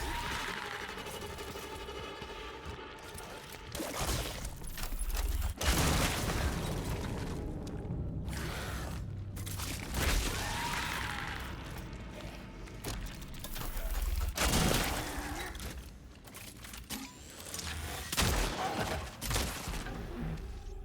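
Gunfire in the horror game Cronos: The New Dawn, with several sharp, loud shots and booming impacts scattered through a dense, noisy game soundscape, mixed with music and ambient effects.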